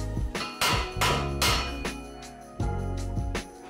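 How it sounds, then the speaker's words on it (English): A hammer taps a bushing into the fork of a Lil Rascal 98 mini bike. About eight sharp metallic strikes land at an uneven pace and ring briefly. They sound close and alone, with no talking. "continue to tap the bushing until it sits flush with the bike."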